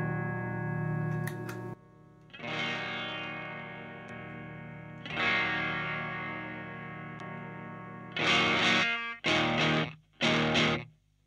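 Electric guitar played through a Wampler Sovereign distortion pedal, sounding as sustained distorted chords and several short, loud bursts near the end, with no talking.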